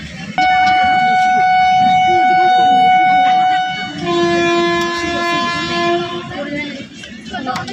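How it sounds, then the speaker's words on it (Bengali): A passenger train pulls away from Rampurhat station after a stop of several minutes, with long sustained horn tones ringing over the rumble of the cars while people talk nearby. "ফাইনালি ট্রেনটা চলতে শুরু করেছে"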